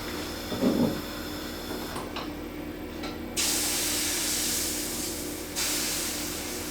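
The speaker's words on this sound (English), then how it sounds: "And you just want to get that melted and hot and sizzling, and then you pour in the batter." Melted lard hisses and sizzles in a hot Yorkshire pudding tin, a steady spitting hiss that swells suddenly louder partway through and stays strong, with no one talking.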